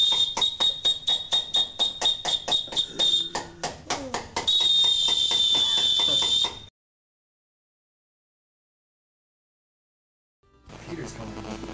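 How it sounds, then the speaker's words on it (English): A piercing high tone blasts in rapid pulses, then holds as one long sustained shriek before stopping abruptly; after several seconds of silence, noisy sounds return. "someone's knocking on your door with a really loud whistle!"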